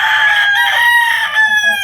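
A chicken, a gamecock, lets out a loud, drawn-out crowing call close by, harsh and sustained for nearly two seconds.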